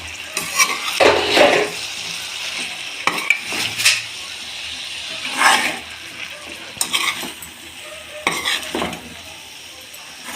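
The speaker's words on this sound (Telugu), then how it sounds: "ఇప్పుడు ఒకసారి ఐటమ్స్ అన్నీ కలిసిపోయే విధంగా బాగా కలిపేసుకుందాం" Cauliflower curry being stirred in a pot with a spoon: repeated scraping, clinking strokes in irregular bursts over a low sizzle, close and fairly loud, with no voices.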